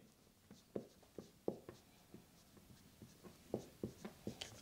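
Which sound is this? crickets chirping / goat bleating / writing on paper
writing on paper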